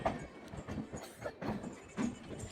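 The Amrit Bharat Express runs on the rails with a faint, steady rumble and a rhythmic clickety-clack of the wheels over rail joints.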